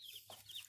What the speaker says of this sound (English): So here are the chicks.